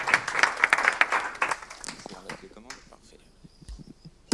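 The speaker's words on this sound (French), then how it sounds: "Merci pour cette présentation. On peut applaudir." An audience claps after a presentation at a French e-health awards pitch session; the applause is loud at first, then thins into a few scattered claps and fades, with some speech underneath.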